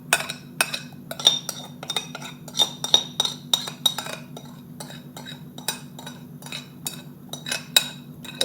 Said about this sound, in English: Let me use the flour spoon to scrape it out.